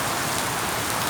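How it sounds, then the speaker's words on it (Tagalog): Heavy rain pours down at night in Jizan, a dense, continuous hiss of drops striking surfaces, loud and unbroken throughout with no voices. "Kita nyo, ang lakas ng ulan."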